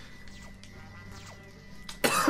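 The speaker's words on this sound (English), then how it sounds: "I cough when I laugh for a little bit." A person coughs after laughing, a short harsh burst near the end following quiet background sound.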